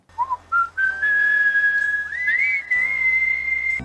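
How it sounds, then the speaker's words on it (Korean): A person whistles a clear tune, starting with short notes and moving into long, sustained tones that glide up and down, close and alone. "우리 사부님 휘파람 최고시죠?"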